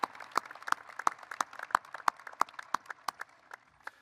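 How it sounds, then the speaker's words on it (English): Sparse, rhythmic hand clapping at a commencement ceremony, evenly spaced claps about three per second, moderately close and fairly quiet, with no voices over it. "I want to give another round of applause for your toughness and your just beautiful music"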